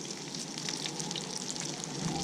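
Bullhead fish frying in hot grease in an old Griswold cast iron skillet outdoors in the woods, a steady close, even sizzle and crackle with no talk.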